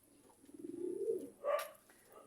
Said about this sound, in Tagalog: Mga kalapati po sila.